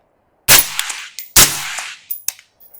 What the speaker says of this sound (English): PTR 308 suppressor versus the Rhino X. PTR first.